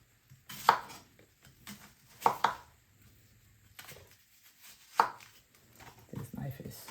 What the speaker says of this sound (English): I'm going to cut up all the other vegetables and season and put it in there.